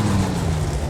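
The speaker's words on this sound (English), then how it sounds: "Let's start this baby up and hear how she sounds" The Half-Life 2 Junker car, modded into the driving game BeamNG, has its engine running in a brief, steady, loud low idle rumble.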